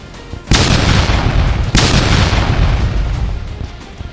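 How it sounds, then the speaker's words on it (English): Two heavy booming blasts in WWI trench footage, a grenade explosion at the front line, each hitting suddenly and loudly before rolling into a long rumbling decay, with no voices. "another throws a grenade in preparation for the order to advance."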